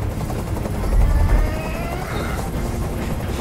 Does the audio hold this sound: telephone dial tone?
no